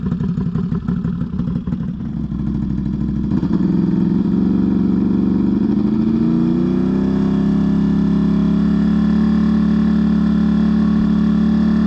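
A trail bike engine runs on a dyno during tuning, loud and close, roughening through low revs and then climbing into a sustained high-revving drone that holds steady.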